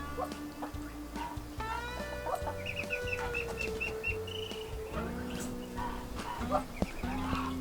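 Chickens on a small farm cluck and call alongside Muscovy ducks, their mixed squawks and chatters overlapping steadily at close range, with one longer drawn-out call rising midway and busy barnyard noise throughout.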